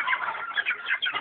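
A rooster on a farm gives a short run of clucking calls, close and moderately loud, heard alone with no talking.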